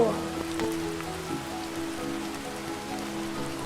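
Steady rain patters on a surface during a children's butterfly-themed drawing and movement lesson, a continuous soft hiss with a few faint sustained tones underneath and no voices.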